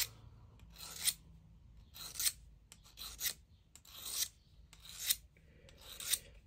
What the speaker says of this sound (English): it's pretty simple to use actually, and it's just like sharpening a knife